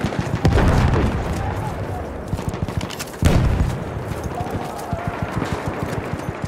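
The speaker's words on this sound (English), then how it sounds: "Throwing a grenade!" Battlefield 1 combat: a grenade blast booms twice amid dense rattling gunfire and shotgun shots, loud and close, with soldiers shouting over the chaos.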